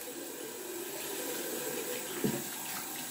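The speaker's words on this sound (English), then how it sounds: "And rinse out the brush" Tap water runs steadily into a sink as a shaving brush is rinsed under it, with a brief, sharper splash near the end.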